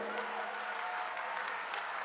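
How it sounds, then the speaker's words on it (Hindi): A large crowd claps steadily at an outdoor political rally in Kota, a continuous, even wash of applause with no talk over it. "जोर से बिरला जी के लिए ताली बजाइए भाई।"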